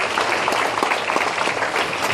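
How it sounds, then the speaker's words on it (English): Audience applause at a dental college career guidance talk, with dense steady clapping from a large crowd filling the whole moment, loud and continuous with no voices on top. "Please give a big round of applause"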